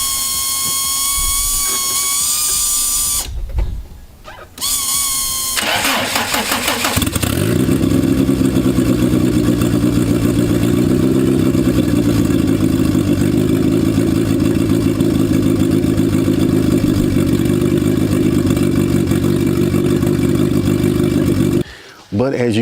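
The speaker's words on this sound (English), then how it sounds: "I just started it up. It still runs like a banshee." A Honda Civic EF engine with a broken transmission cranks and fires up, then revs loudly and settles into a steady, close, rough idle with clattery mechanical noise, briefly cutting out near the end.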